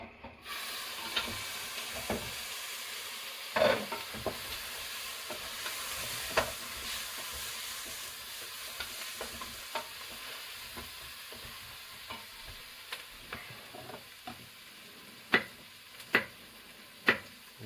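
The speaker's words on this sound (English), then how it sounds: "I'm just going to give that a quick stir" Soup being stirred in a pot on the stove, with a steady low sizzle and hiss beneath scattered soft scraping and tapping of the spoon, growing into sharper clinks toward the end.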